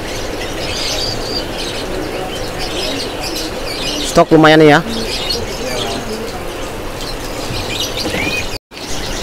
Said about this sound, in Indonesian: Untuk perkutut kalung tekuknya